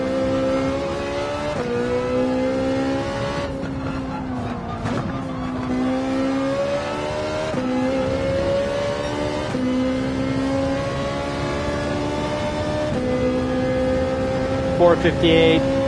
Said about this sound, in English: Ferrari 458 loves to be revved out, so make sure you rev it out to get it really into its peak power band.